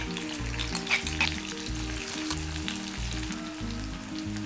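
Crushed shallots and dried red chillies frying in hot coconut oil give a steady, close sizzle and crackle with a regular low scraping stir, with no voices.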